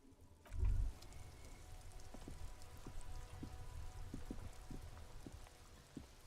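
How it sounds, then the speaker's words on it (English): Steady rain patters in a video game scene, a soft, constant wash of drops with small scattered ticks and one brief low thump near the start, fairly faint throughout. "This rain will not let up anytime soon."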